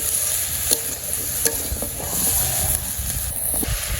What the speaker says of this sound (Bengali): আমার সবজি কষানো হয়ে গেছে